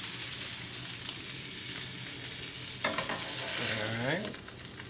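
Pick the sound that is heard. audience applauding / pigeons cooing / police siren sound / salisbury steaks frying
salisbury steaks frying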